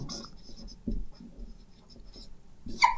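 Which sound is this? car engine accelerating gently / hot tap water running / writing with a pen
writing with a pen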